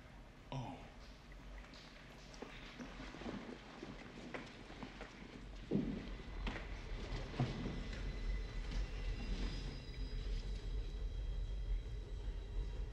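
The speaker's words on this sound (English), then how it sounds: "Sounds like a train." Train rumbling close by inside a tunnel on long-abandoned lines, a low steady drone lasting throughout with scattered knocks and rattles, rising slightly after the midpoint, no talking.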